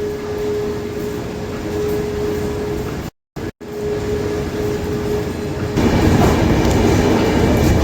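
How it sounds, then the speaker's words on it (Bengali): An LHB-coach Radhikapur Express pulls out of Kolkata station at night, its steady rolling rumble and rail clatter continuous, briefly cutting out, then growing louder and rougher near the end as it picks up speed. "রাত 8টা বেজে 45 মিনিটে আমাদের ট্রেন কলকাতা স্টেশন থেকে 5 নম্বর প্ল্যাটফর্ম থেকে ছাড়ছে"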